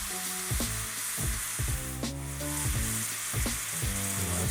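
Steak edges sear in a hot pan with steady crackling sizzle, punctuated by a few low thumps as the meat is shifted, close and with no talking.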